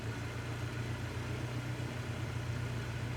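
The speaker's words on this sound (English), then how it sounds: "Close the window because it's a little noisy now with the engine started" The piston engine of a light aircraft in Microsoft Flight Simulator 2024 runs at a steady low rumble, constant and unbroken throughout, with no voices.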